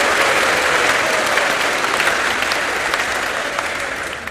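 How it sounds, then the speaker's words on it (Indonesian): A church congregation applauds together in a steady, dense round of clapping that stays loud and even throughout, with no voices rising above it. "Tepuk tangan untuk kesempatan kita."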